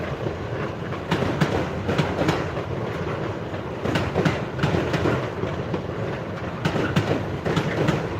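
Train wagons roll past Basford Hall Sidings in Crewe, their wheels beating a steady, loud clickety-clack rhythm in repeated pairs of sharp clicks over a continuous rumbling roar, close by and with no talking.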